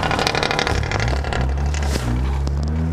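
A Mazda RX8 with a hollowed-out catalytic converter revs hard close by, its engine note rising and falling in pitch with a raspy, loud exhaust from start to finish.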